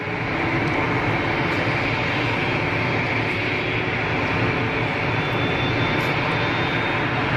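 Steady, loud aircraft engine roar spinning up at Geneva Airport, a broad continuous rumble with a faint rising whine, no voices.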